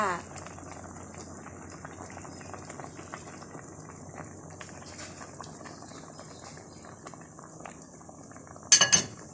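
A pot of bamboo shoot curry seasoned with fermented fish sauce simmers in a soft, steady bubbling hiss, with a few faint clinks and a sharp clatter of utensils near the end.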